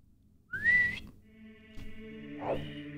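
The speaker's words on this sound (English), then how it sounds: "I love that little whistle." A short rising whistle tune from Zelda: Ocarina of Time sounds in Zora's Domain, a bright sliding whistle followed by sustained tones of the game's background music, all fairly quiet with no talking.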